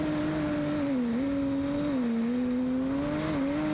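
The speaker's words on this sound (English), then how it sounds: "Listen to the boat." A jetsprint racing boat at the Meremere Bowl in the NZ Jetsprint Championship roars with a loud, sustained engine tone that rises and dips slightly as it runs, heard close as if on board, with no talking.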